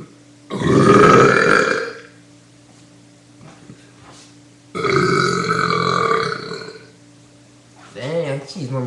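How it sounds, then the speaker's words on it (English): A person burps loudly after chugging milk, two long drawn-out belches followed by a shorter third, close to the microphone. "I can burp and I can chug"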